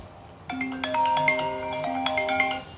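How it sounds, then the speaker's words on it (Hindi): A phone ringtone for an incoming call plays a short bright electronic melody of several rising and falling tones, loud and close, starting abruptly and ringing alone for about two seconds. "अंजलि का फोन"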